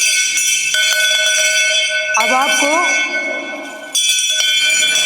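A temple bell at an old Shiva temple in Unnao rings repeatedly, loud and close, its ringing tone sustaining throughout while someone speaks briefly over it in the middle.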